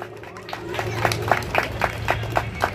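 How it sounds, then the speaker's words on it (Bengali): An outdoor crowd at a festival opening on a school ground during Saraswati Puja claps in a steady, even rhythm, with a voice over a loudspeaker running underneath. "জোরে একটু করতালি দেবেন।"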